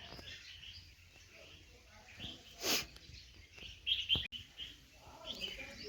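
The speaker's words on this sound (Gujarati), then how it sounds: "આખો બુલબુલનો ઘેરો છે. લગભગ 30-40 બુલબુલ છે આમાં." A flock of some 30 to 40 bulbuls chirps outdoors near a home, giving scattered light tweets and a few brighter bursts over a quiet background.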